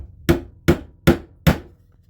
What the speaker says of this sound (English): And then we take our hammer and our nail. And the nail should just sit in there. So you're going to give it a tap.